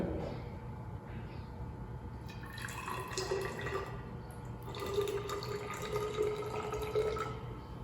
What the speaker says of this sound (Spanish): Vertimos y medimos los 25 mililitros de agua en la probeta.